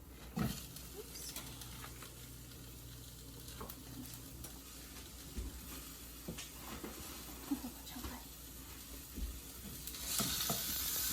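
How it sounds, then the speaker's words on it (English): Ground beef and browned onions fry in a pan, giving a quiet, continuous sizzle. A spoon scrapes and stirs through it with scattered knocks. "once I have my onions pretty browned, I'm going to add my ground beef. The onions will continue to cook."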